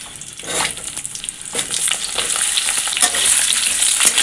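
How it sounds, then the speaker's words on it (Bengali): Potatoes fry in hot oil with cumin seeds, a loud, close sizzle broken by repeated scraping and stirring strokes. "আলুগুলো আগে ভেজে নেব"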